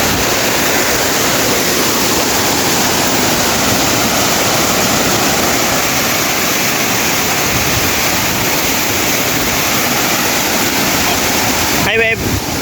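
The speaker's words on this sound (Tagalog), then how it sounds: "The falls of this place is very much okay." Waterfall at Bunga Falls, a loud, steady broadband roar of falling water filling the whole scene, with a brief splash or burst near the end.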